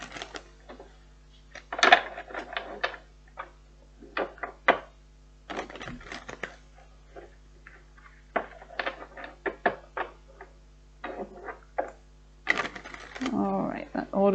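Tarot clarifier cards being shuffled by hand produce soft, irregular papery riffles and taps in short bursts, close and quiet, with occasional low speech between them.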